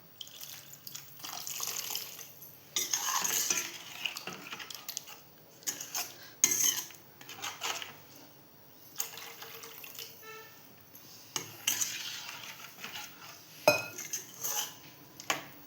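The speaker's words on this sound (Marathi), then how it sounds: "आता जेवढं आपल्या कालवणाला पाणी लागणार आहे तेवढं टाकूया." Water is poured into a pot of curry in a home kitchen, with intermittent splashing and clinking of utensils against the pot in short bursts, close by and moderately loud.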